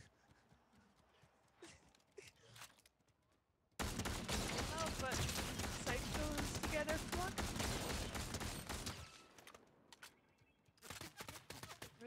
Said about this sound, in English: there's people shooting up top